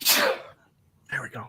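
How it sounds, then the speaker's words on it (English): One sharp, close sneeze bursts out at the start, and then a person speaks briefly. "The sneeze is right there."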